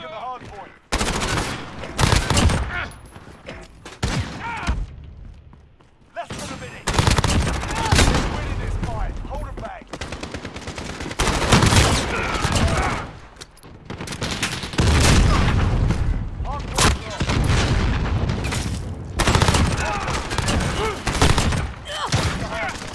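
Akimbo pistols fire repeatedly on the Shipment map of a first-person shooter, loud bursts of rapid gunfire broken by short pauses across the clip, with game chatter and voices mixed in.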